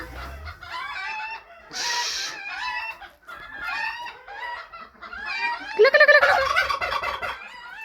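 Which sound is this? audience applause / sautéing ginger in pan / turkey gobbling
turkey gobbling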